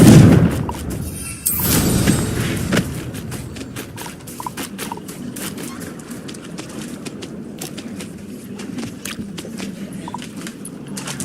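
Confringo blast spell in Hogwarts Legacy bursting in a loud explosive boom near the start, then fading into softer scattered crackles and footsteps.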